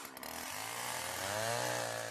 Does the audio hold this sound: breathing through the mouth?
no